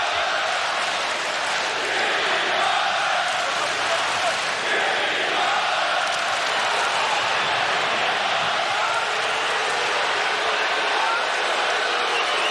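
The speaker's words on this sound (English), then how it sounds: "if you're hearing lots of dissatisfaction from the crowd, that's because they're showing the replay on the big board here at the AAC" A basketball arena crowd at the American Airlines Center, during the Timberwolves at Mavericks game, gives off a sustained, unhappy roar that swells and murmurs without pause throughout.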